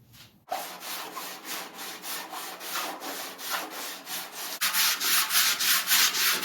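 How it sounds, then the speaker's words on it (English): Steady rhythmic sanding of body filler on a 1930-31 Ford Model A front fender, close and continuous, with back-and-forth strokes that grow louder and brighter in the last couple of seconds. "We're just sanding it down until the high spots show through"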